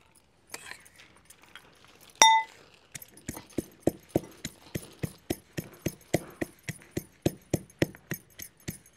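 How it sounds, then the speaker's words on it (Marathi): Ginger and garlic pounded in a stone mortar and pestle, a steady series of sharp, evenly spaced thuds with a clinking ring, preceded by a bright metallic clang. "आल्याचे तुकडे करून घ्यायचे, म्हणजे पटकन खलबत्त्यात कुटलं जातं"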